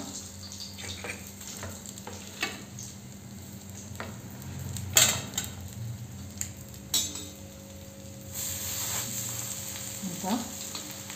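Masala fish coated in semolina fries in a small amount of oil in a pan, a low, steady sizzle with occasional clinks and scrapes of a utensil against the pan, fairly quiet, with no talking.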